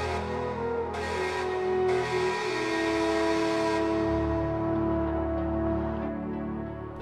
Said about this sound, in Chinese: 列车都会放慢速度并拉响汽笛